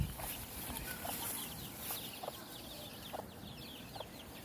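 Soft peeping of chicks and faint clucking from fowl in a quiet outdoor setting, with a few scattered brief chirps.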